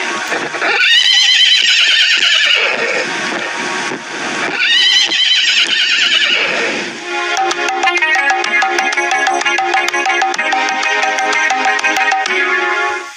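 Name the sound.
horse neighing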